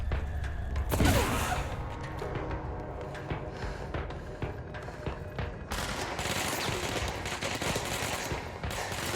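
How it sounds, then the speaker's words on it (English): Dense rapid gunfire from a firefight in the video game Control, a steady rattling barrage of shots with mechanical clanks, loud and continuous with a heavier burst near the start. "Everybody's shooting at me."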